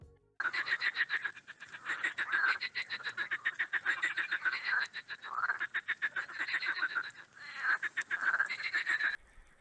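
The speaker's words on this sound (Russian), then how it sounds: "Поем вместе, лягушетки." A chorus of frogs croaks steadily near a body of water, with dense, pulsing calls overlapping in rhythmic bursts, loud and close throughout, no voices.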